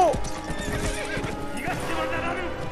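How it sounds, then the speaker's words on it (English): A horse whinnies sharply at the start, then hooves pound in a steady gallop, close and loud, with faint voices and video game sounds beneath. "Going with my horse to Yuna."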